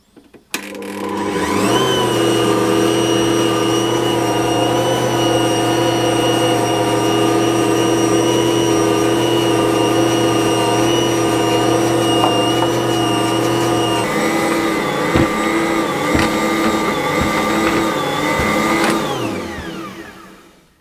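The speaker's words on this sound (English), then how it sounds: "I'm going to knead it until it completely cleans the side of the bowl and it's all come together into a fairly smooth dough" An Ankarsrum stand mixer kneading panettone dough, a loud steady motor hum and whir running continuously, shifting slightly in pitch partway through before winding down at the end.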